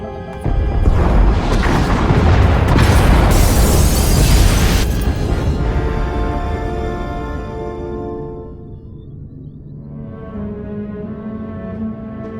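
Massive explosions tear through the pod bays in Star Wars The Old Republic, a loud, sustained rumbling roar of blasts that slowly decays into a low, droning aftermath.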